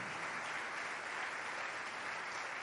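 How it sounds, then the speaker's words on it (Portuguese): Church congregation applauding steadily at an evening worship service, a dense, sustained wash of clapping that fills the room without pause. "Aleluia, mais forte, as palmas são para o Senhor Jesus Cristo."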